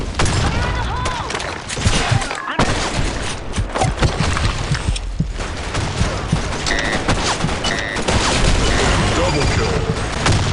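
Dense video game gunfire rattles nonstop in a sand storm map, with rapid bursts and grenade booms under shouted voice callouts, loud and close throughout.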